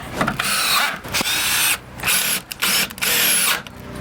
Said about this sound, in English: I'll put two more screws in here, and I'll do the same thing to the top